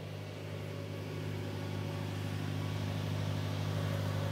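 Twin MAN six-cylinder 730 hp diesel engines idle aboard an Azimut Magellano 60 trawler yacht, a steady low droning rumble heard up close from the engine room, constant and unbroken with no talking.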